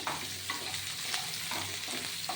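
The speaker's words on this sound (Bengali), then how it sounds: "নতুন আলু টুকরো করে নিয়েছি নিয়ে এভাবে আলুটা ভেজে নিচ্ছি" Cut new potatoes that were boiled with salt frying in a pan, a steady close sizzle with rhythmic stirring scrapes every half second or so.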